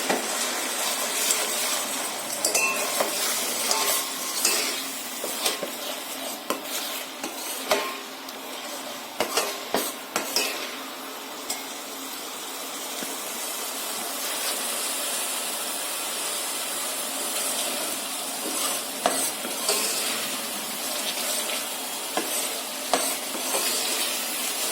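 A masala of onion, coconut, ginger, garlic, green chillies and tomato fries in a pan with a continuous soft sizzle, broken by frequent scraping and clinking stirs of a spoon against the metal, which settle into steadier frying later.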